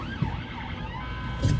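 A police car siren wails close by in traffic, its pitch sweeping up and down in slow repeating swoops, loud and continuous, with a brief thump near the end.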